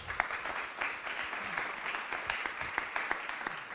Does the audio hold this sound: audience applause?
yes